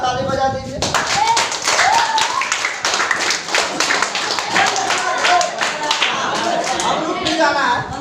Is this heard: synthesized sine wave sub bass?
no